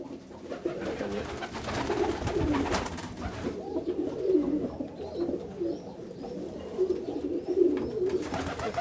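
Short-faced tumbler pigeons coo in soft, repeated low calls through a nest box loft, a steady murmur of several birds close by with no talk over them.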